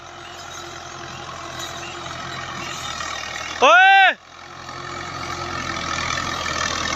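A Fiat 85 horsepower tractor engine rumbles steadily close by, and a voice cuts in with one brief loud shout partway through.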